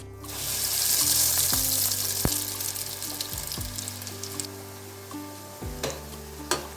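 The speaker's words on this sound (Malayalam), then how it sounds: "നമുക്ക് രണ്ട് ഭാഗമൊന്ന് ഫ്രൈ ചെയ്തെടുക്കാം" A bread-crumb-coated banana fritter fries in hot oil with a steady, close hiss and crackle that fades slightly over several seconds, broken by a few sharp pops and a faint steady hum, with no talking.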